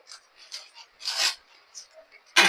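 Soft rubbing and squishing bursts as cashew dough for kaju katli is kneaded by hand inside a ghee-greased plastic bag, several short uneven strokes with a louder rustle at the end.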